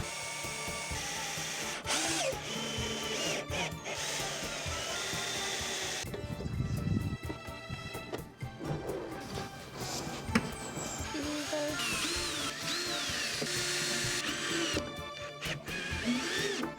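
A power drill drives screws into a wooden raised garden box, with loud whirring bursts that rise and fall and a louder burst midway, plus a few knocks and handling noise.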